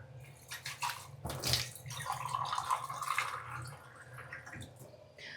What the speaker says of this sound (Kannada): ಒಂತೆ ನೀರು ಪಾಡುವೆ.